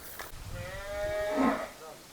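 A Gir cow on a farm gives a single drawn-out moo, rising and swelling toward the end, close and fairly loud, with no talk over it.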